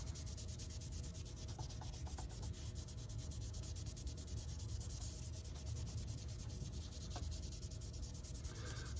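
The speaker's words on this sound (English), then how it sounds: "Kind of rub it in good to let it soak in after 100 years of abuse." Steady rubbing of red oak wood stain into a roughly 100-year-old golf driver head, a soft continuous scrubbing texture close up with no talking.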